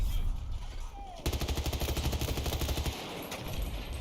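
Automatic rifle fire in the video game Battlefield 2042, a rapid rattling burst of shots lasting about two seconds after a brief lead-in of game ambience, then a short final volley.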